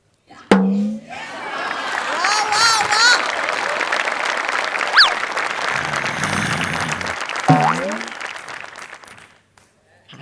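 A studio audience at a Marathi comedy show breaks into sustained applause that fills most of the moment, with voices heard over it at the start and again near the end.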